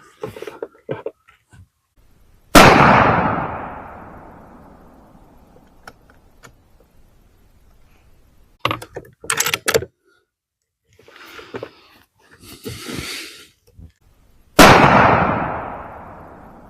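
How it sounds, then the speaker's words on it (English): Two loud, close rifle shots from a Sako L579 Forester firing PPU 55-grain soft-point ammunition crack sharply and echo out, several seconds apart, with clicks, handling noises and brief talking between them. "Let's fire 2 more shots and we'll call it done."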